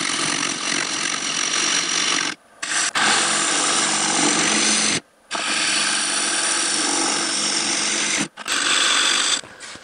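A wood lathe turns the bottom of a walnut bowl with a chisel, giving a steady loud scraping whir that drops out briefly three times as the cut pauses.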